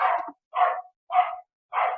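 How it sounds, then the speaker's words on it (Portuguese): A dog barks four times nearby in a house, each bark loud and short with even pauses between, and no talking over it. "Vou esperar a boa vontade do cachorro parar de latir agora"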